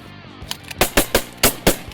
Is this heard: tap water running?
no